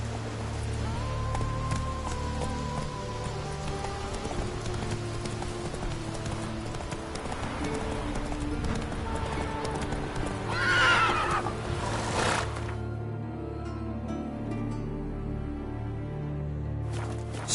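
A horse gallops and neighs in The Witcher 3, its hooves pounding beneath a dense music bed, with a sharper whinny late on before the sound thins out.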